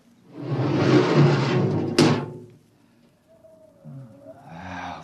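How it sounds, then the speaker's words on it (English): Spaceship airlock opening as a radio drama sound effect: a broad rushing hiss lasting over a second, cut by a sharp clunk, followed by a quiet gap and a faint thin whine before low rumbling noise returns. "Open the airlock"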